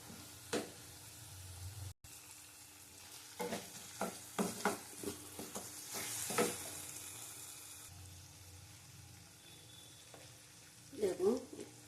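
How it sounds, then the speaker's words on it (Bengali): Fish curry spice paste with dried poppy seed paste being sautéed in a pan, a faint sizzle broken by clinks and scrapes of a stirring spoon, with a voice speaking softly now and then. "ভালো করে কষিয়ে নেবো আবার।"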